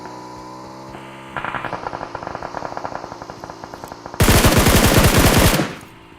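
Rapid automatic gunfire in PUBG Mobile solo mode, a loud steady stream of shots that grows into a dense, even louder burst near the end before cutting off.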